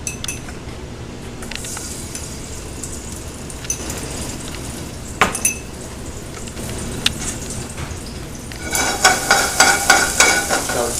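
Shallots sizzle steadily in olive oil in a pan for a saffron risotto, a continuous frying hiss with occasional utensil clinks and a burst of scraping stirs near the end, no talking.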